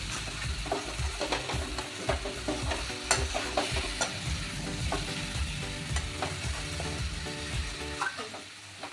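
Cabbage, potato and fish roe frying in a pan, a steady close sizzle broken by scraping and clattering as the mix is stirred continually, with no talk.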